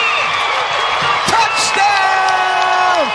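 A football stadium crowd at a college homecoming game between Norfolk State and North Carolina A&T roars loudly during a long kick return, sustained cheering and whoops running under an excited announcer's voice.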